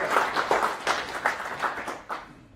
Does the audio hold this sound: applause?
yes